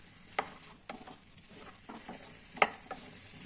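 Okra (lady's finger) pieces being stirred in a pan for a simple okra curry, a few sharp scraping clacks of the spoon over a faint steady sizzle, no talking.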